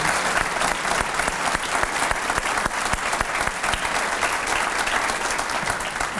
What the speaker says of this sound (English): Let's give one more round of applause to our four inductees and our two state championship teams.